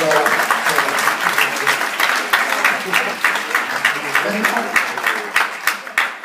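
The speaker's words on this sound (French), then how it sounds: "on peut encore les applaudir en tout cas" A crowd at a seminar in Vittel applauds loudly and steadily, dense clapping filling the room for several seconds with a few sharper claps standing out near the end.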